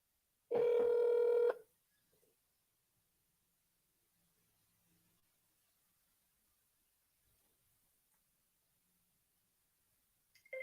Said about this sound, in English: Is it dialing? It just stopped.